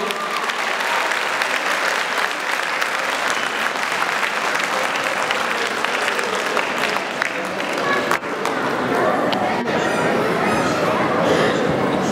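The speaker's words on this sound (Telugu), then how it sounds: "మీరు ఎంత గట్టి చప్పట్లు కొడితే అంత ఆనందం అండి మాకు" Sustained audience applause fills a large hall at the TAL Ugadi 2024 valedictory, a dense, steady roar of many hands with crowd noise, continuing loudly throughout.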